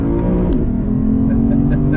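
Lexus IS500 V8 engine accelerating on a drive, a deep steady rumble heard from inside the car with the pitch climbing slightly, loud and continuous with no talking.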